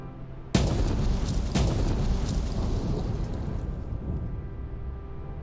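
Explosive charges in the mining game Out of Ore set off with a plunger: two sharp, loud blasts about a second apart, the first with a hard onset, followed by a long rumbling roar that slowly fades.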